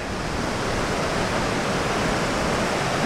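Loud, steady broadband roar of flash-flood runoff from a burn scar area rushing down the swollen Big Thompson River in the canyon near Estes Park, a close, continuous torrent with no pauses.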